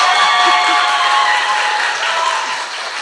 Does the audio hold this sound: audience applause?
yes